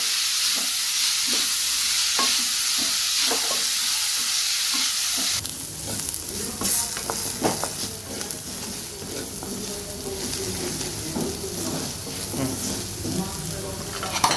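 Onions frying in a pan with salt for a soya chunk curry, a constant sizzle with rhythmic stirring taps at first, then busier scraping and clatter as the sizzle grows brighter.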